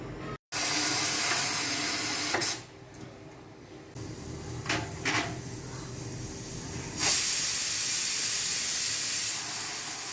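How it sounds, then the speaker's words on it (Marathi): A kitchen pressure cooker cooking dal with spinach vents steam in loud, close hissing bursts, with a sustained high whistle-like hiss swelling near the end and quieter stretches between, no talk. "आता कुकरच्या 4 शिट्ट्या झालेल्या आहेत"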